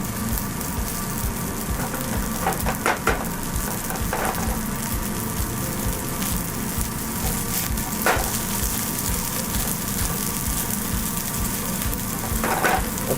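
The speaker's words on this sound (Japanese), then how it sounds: "お米がパチパチいってきたら" Rice and salmon fried rice frying in a hot pan, seasoned with a little oyster sauce and spread against the pan sides, gives off a steady, close sizzle with occasional sharper crackles and pops throughout.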